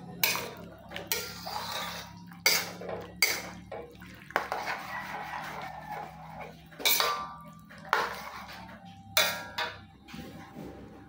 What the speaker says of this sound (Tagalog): ituloy lang natin ang paghalo hanggang sa maging malapot na ang sauce nito